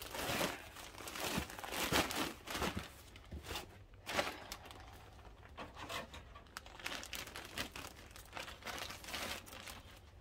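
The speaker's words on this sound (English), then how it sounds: "So I will open a new bag." A new plastic bag of peat moss is cut open with scissors and pulled apart, giving irregular crinkling, rustling and tearing bursts over about ten seconds, close and moderately quiet, with no talking.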